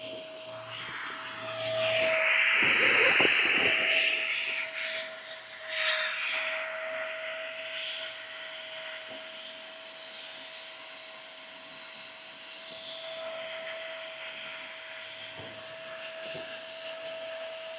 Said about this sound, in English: That's pumping some serious air into there.